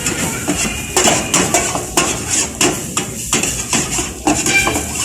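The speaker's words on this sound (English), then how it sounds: "Stir fry some vegetables properly." Vegetables for Hakka noodles are stir-fried in a pan, with a close, irregular run of metallic clanks and scrapes from a utensil striking the pan over a faint sizzle. No one speaks.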